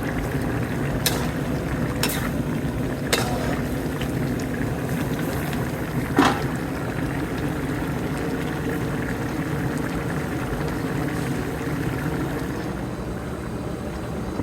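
Beef cooks with garlic in a pot, giving a steady bubbling, simmering hiss that runs evenly throughout. A few faint knocks rise above it early on, with no voices.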